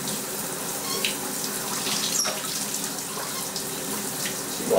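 A faucet runs steadily during a pet monkey's shower, a continuous close hiss of flowing water with faint drips and splashes breaking through.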